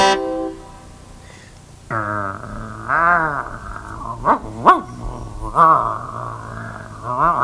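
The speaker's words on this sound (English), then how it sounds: "It's a growl." A dog's growl rises and falls in several drawn-out, tonal swells over a steady low hum, loud and close, with a short high tone at the start.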